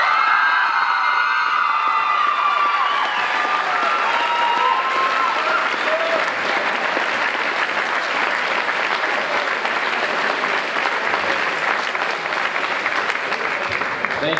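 Sustained applause with cheering and scattered whoops from a large crowd greets the newly crowned homecoming king and queen at a school pepfest coronation, loud and dense throughout.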